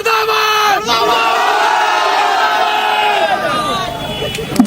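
Residents blocking a road in Bhandara–Gondia district chant slogans together against the administration, a loud, rhythmic crowd roar of massed voices rising and falling, with shouted calls over the group.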